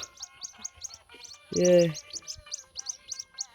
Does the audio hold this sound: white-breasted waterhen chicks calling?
yes